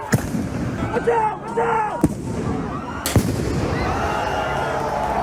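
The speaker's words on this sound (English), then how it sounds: "Fireworks also flew." Fireworks at a tense street protest by metal fencing: several sharp bangs and crackling bursts over a loud, shouting crowd, with whistling rising tones mixed into the noisy din.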